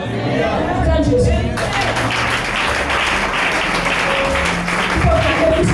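A church congregation breaks into loud, sustained applause for Jesus, dense clapping mixed with crowd voices that continues steadily after a brief spoken lead-in.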